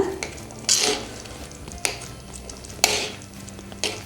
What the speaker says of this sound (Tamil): உருளைக்கிழங்கை லைட்டாக மசிச்சு விட்டுருங்க